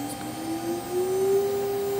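Laguna IQ HHC CNC router spindle spinning up, a steady whining hum that climbs gradually in pitch over a low mechanical drone, running alone at moderate level.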